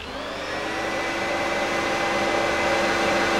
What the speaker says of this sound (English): The Dyson vacuum cleaner. We've said goodbye to the bag.